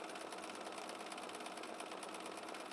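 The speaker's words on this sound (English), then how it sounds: "when you start quilting with this, look how much control I have over this machine." A sewing machine doing free-motion quilting with grip disks, a fast, continuous mechanical whir and needle patter running steadily at close range with no talk.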